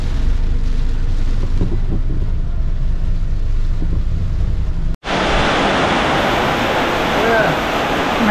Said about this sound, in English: it's raining harder and harder